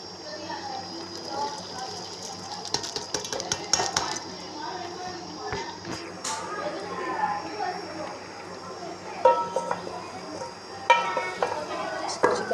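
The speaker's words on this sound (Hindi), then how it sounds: "अब हम इसमें ऐड करेंगे शिमला मिर्च" Chopped bell pepper (shimla mirch) goes into a pan of aloo shimla mirch and is stirred with a utensil, giving scattered metallic clinks and scraping against the pan under steady talking.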